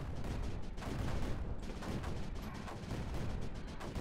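Rows of mortars firing in the Creeper World 4 strategy game, a dense, continuous barrage of rumbling booms and crackling blasts throughout, loud and close, with no pauses.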